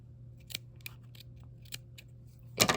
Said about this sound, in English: And then I can trim the cotton here.